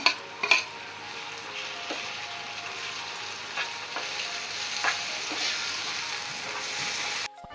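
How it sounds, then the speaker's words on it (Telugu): Chopped tomatoes drop into onions frying in a pan for egg bhurji, giving a steady close sizzle with a few scraping stirs and light clinks of a utensil against the pan. "టమాటా ముక్కలు కట్ చేసినవి ఉన్నాయి కదా అవి వేసేస్తున్నాం చూడండి ఇలా కట్ చేసిన ముక్కల్ని వేసేస్తున్నాను"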